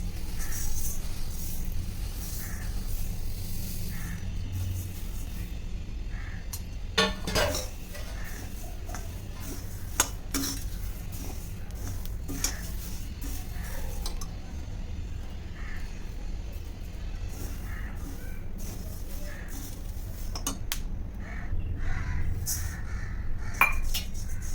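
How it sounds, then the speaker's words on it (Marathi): Spices such as fennel, ajwain, mustard seeds and shahi jeera roasted in a pan for Malvani masala, with steady clinking and scraping of a utensil against the pan, moderately close and without talk. "सगळे मसाले आपण एक एक करून परतून घेणार आहे."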